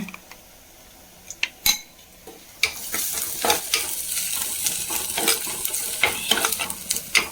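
Onions frying in a pan for fish curry, a soft sizzle that swells into louder crackling with repeated metal spoon scrapes and clinks against the pan, close and busy throughout.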